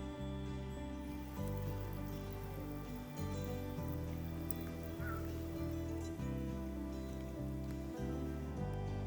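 Steady heavy rain in Austria near a waterfall, a dense continuous wash under a low sustained musical drone, with no one speaking.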